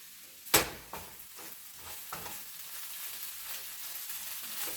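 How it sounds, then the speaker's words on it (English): A spoon gently stirs a fish sauce in a pot, opening with one sharp knock against the pot, followed by a few soft scrapes over a low, steady simmering sizzle, close by and without talk. "Stir gently so that you don't You don't, your fish doesn't come out very mushy."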